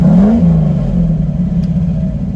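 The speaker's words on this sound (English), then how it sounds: "we have an angry little V8 Austin Healy" A V8 engine in a 1962 Austin Healey tribute car rumbles at idle close by, a deep throaty burble with a short rise in revs at the start before settling into a steady low drone.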